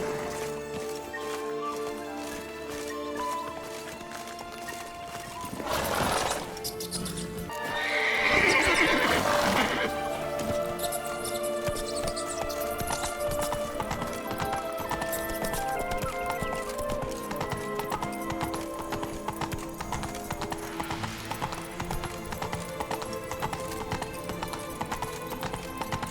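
Roach, a horse in The Witcher 3, gives a loud whinny over steady clip-clopping hooves that continue throughout, with background game music and ambience.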